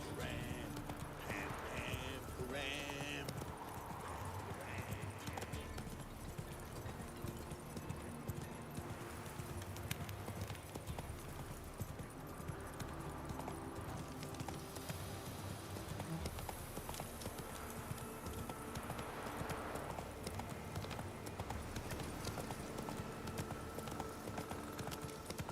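Horse hooves clip-clop at a steady gallop for Roach in The Witcher 3, running continuously under a dense game soundscape of music and ambience, with bits of voice mixed in.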